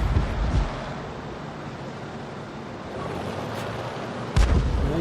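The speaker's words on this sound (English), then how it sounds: "That was an enemy Arty round coming in there." An incoming enemy artillery round lands in a WWII tank battle game featuring a T82 HMC, a Panzer IV-H and a Chi-Nu Kai, with a low rumbling impact at the start and another sharp boom near the end over steady wind-like background noise.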